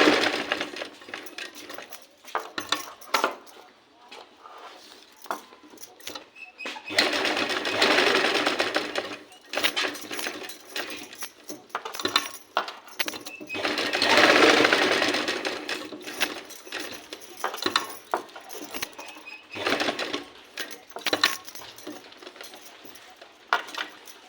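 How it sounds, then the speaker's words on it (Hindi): A sewing machine stitches along a fabric edge while a sleeve is being made, running in several bursts of rapid mechanical chatter separated by short pauses, close and fairly loud, with a voice speaking briefly in between. "ये देखिए हमने सिलाई चला दिया"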